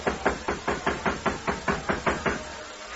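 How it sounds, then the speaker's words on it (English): Knuckles knock on the door of the Modoc City jail in a story reading, about eleven loud, close, evenly spaced raps in a steady rhythm with no voices. "Uncle Homer swaggered up to the door of the Modoc City jail and knocked."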